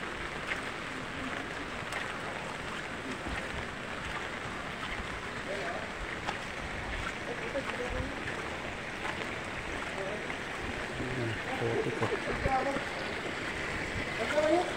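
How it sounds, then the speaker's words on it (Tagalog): Overflowing storm drain water from 18th Avenue running down a low-lying street, a steady broad rushing and trickling flow like a stream, continuous and fairly near. "Yung drainage, yung imbornal doon, maapaw eh. Pupunta rito."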